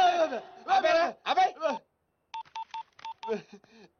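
A voice talks briefly, then a series of short telephone keypad tones beeps out one by one in a quick, uneven sequence, with a little more talk at the end.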